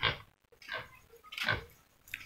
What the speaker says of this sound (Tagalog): Ayan, may baboy.